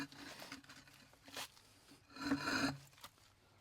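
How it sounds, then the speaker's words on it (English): A variable-speed Aquastrong pool pump fitting slides onto a pipe during installation, making faint, short rubbing and scraping sounds in a few brief bursts. "We're sliding right onto the pipe."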